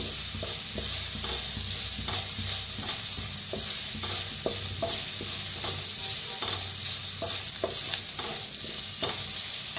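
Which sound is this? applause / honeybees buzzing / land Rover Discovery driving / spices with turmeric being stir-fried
spices with turmeric being stir-fried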